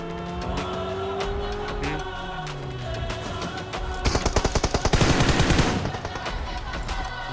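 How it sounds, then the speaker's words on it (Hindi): Blind gunfire in a mobile battle-royale match, a rapid burst of automatic shots cutting through game sounds and vehicle engine noise, fairly loud and close. "मैं तो ब्लाइंड फायर दिया"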